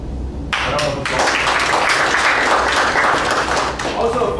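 An audience at a Toastmasters public speaking meeting breaks into full, loud applause, a dense roar of many hands clapping that swells after a brief tap and holds steady before easing off.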